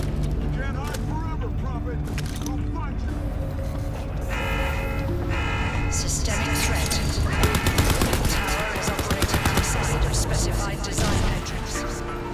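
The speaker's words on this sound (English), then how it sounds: "that's my machine gun." Machine gun fire in the video game Crysis 3, heavy bursts repeating amid a loud, busy battle soundscape with rhythmic electronic tones. A voice talks over the action.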